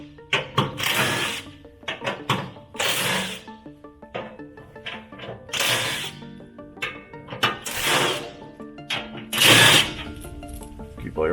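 Ratchet wrench clicking in short bursts while backing self-tapping screws out of the cover on a Swisher 44-inch pull-behind rough cut mower, with someone talking between the bursts.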